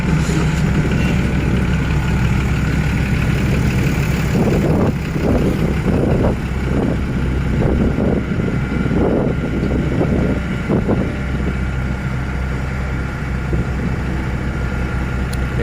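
A Lovol FR80 excavator's engine runs steadily and loudly nearby with a deep, constant drone, rising in the middle into a series of rhythmic, pulsing surges before settling back to an even hum.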